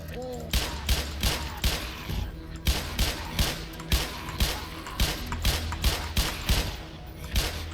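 Repeated gunfire in the Black Mesa video game, loud shots ringing out in quick irregular bursts across the whole stretch with some mechanical clatter mixed in.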